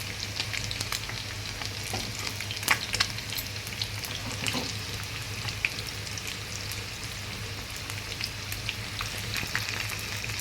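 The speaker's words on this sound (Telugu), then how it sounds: "కొంచెం వేగాలండి. కొంచెం వేగినాక తీసేసుకోవడం అంతే." Food sizzles and crackles steadily in a hot frying pan, a soft, continuous spitting hiss broken by scattered sharper pops, with no one talking.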